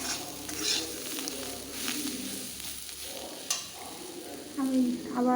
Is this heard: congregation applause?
no